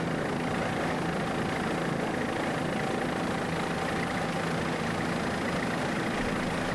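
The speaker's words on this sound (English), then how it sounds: "Mercury outboard propelling that 32-foot Doug Wright towards the front of the pack" A Mercury outboard engine drives a 32-foot Doug Wright offshore racing powerboat at the Suncoast Offshore Grand Prix, giving a steady, dense engine drone that is loud and unbroken throughout, with no voices over it.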